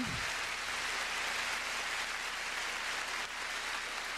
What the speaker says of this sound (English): a warm ovation from this audience